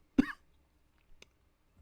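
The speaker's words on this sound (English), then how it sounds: "Still dealing with this cough." A single short, sharp cough close up, followed by a faint throat sound and near silence.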